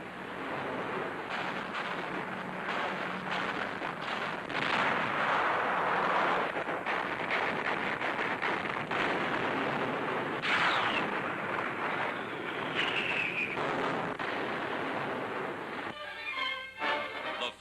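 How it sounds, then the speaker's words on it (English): Anti-aircraft fire and high explosives dropped by big bombers on Rommel's Africa Corps, a dense, continuous roar of booming blasts and crackling gunfire held at a loud, steady level throughout, with no voices. "Big bombers softening up Rommel's Africa Corps with load after load of high explosives. Anti-aircraft fire fails to stop them."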